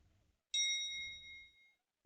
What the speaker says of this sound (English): It was a bell.